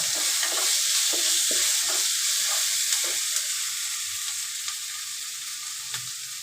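Lentils and coriander powder are stirred in a hot pan, a steady close sizzle and hiss with soft scraping strokes repeating through the stretch, and no voices.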